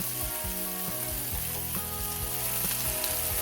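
Tilapia fillets pan frying, a dense, even sizzle with spitting crackles throughout, close and continuous with no voices.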